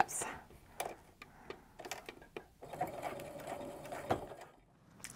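A sewing machine stitches across the zipper teeth of a handbag, running slowly in short uneven bursts with some ticking, fairly quiet and close.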